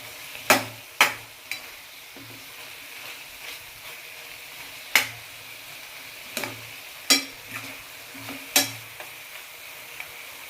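Prawns fry in a pan over a medium flame, a soft steady sizzle broken by repeated sharp clanks and scrapes of a utensil against the pan, spaced irregularly, close and fairly quiet.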